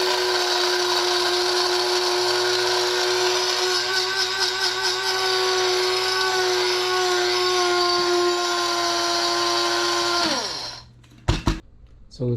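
A motorized coffee grinder runs continuously on beans for a moka pot, a loud steady whirring that winds down and stops near the end, followed by a few clicks and knocks.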